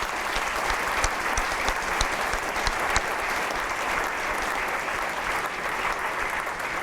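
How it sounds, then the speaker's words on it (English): An audience at an Anne Frank 90th birthday anniversary program applauds a group of students, a sustained wash of many hands clapping that holds steady and full throughout. "another round of applause for these students"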